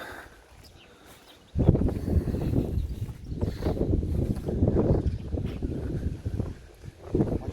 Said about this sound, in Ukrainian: Вітер трішки задуває.